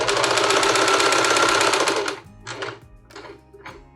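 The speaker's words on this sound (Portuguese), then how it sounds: "eu costuro até esse ponto" Sewing machine stitching the hem of a fabric tablecloth, a fast steady mechanical whirr for about two seconds that stops, then a few short bursts of stitching with pauses between.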